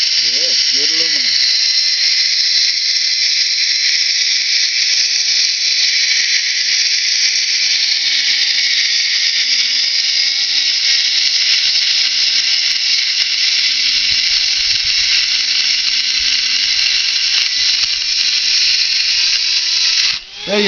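A high-pitched power saw cuts steadily through an aluminum Edelbrock part, a loud continuous whine with little variation in tone that stops abruptly at the end.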